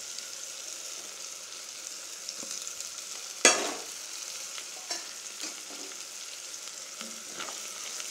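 Turmeric, chili powder and salt go into a pan of onion and tomato frying in oil for a Tamil fish kulambu, giving a soft, continuous sizzle, one sharp clatter early on, and light stirring scrapes.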